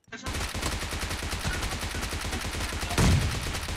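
Rapid automatic gunfire in the video game PUBG, dense repeated shots in a fast continuous burst that swells louder near the end.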